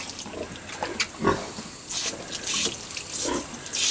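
A pig plays in water in its pen, splashing and sloshing in irregular bursts with a running-water hiss underneath, close and fairly loud throughout.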